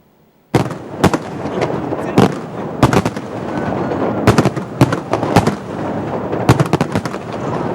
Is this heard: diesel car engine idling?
no